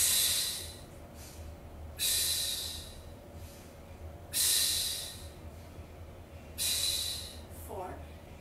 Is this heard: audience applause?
no